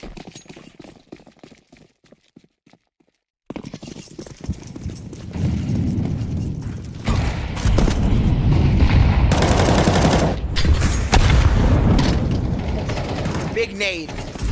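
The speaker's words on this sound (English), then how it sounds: "Big nade" Esports match of a tactical shooter game where a grenade blast erupts amid loud, dense gunfire, with bursts of shots and a heavy boom through the middle, after a quiet opening and under commentary.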